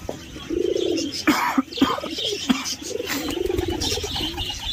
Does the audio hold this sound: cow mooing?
no